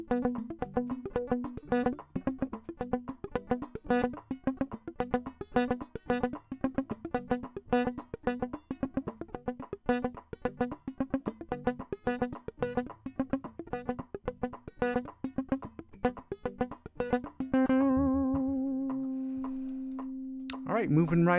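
A guitar played in double time at 110 beats per minute spills out a fast, steady stream of picked notes for most of the passage, then settles onto one held note that rings near the end.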